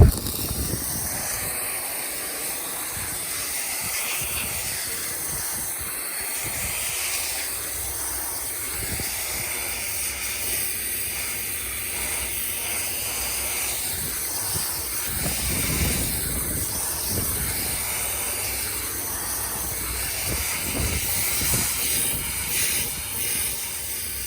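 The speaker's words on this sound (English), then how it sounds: "we're going to be soft washing this and steam cleaning it." A steam cleaner hisses steadily and continuously while a roof is cleaned, giving a broad, constant rushing wash of noise with slight surges, close by and with no talk.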